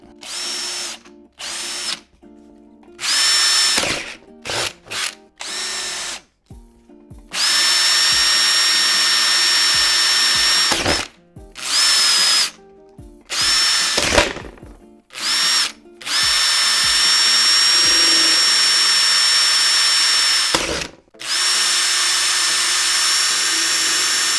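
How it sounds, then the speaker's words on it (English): A power drill bores holes through a custom metal motherboard tray for a water-cooled PC build, running in repeated loud, steady high-pitched bursts separated by short pauses, with no talking. "we're gonna drill a hole big enough for our jigsaw to fit into"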